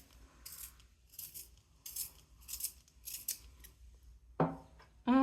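A silver colored pencil is cranked through a sharpener in a steady run of about five rasping strokes, close and fairly quiet, followed by a couple of louder knocks at the end.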